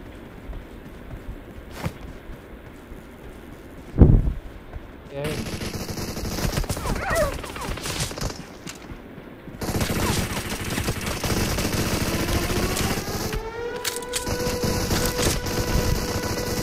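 Video game gunfire during a live-streamed match, with a sharp shot near the start followed by sustained bursts of automatic fire and game effects, moderately loud with some voice activity mixed in.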